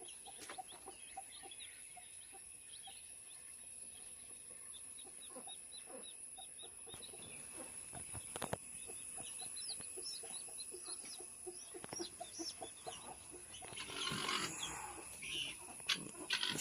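Chickens and chicks on a farm cluck and peep softly in scattered calls over a quiet background, with a slightly busier flurry of calls near the end.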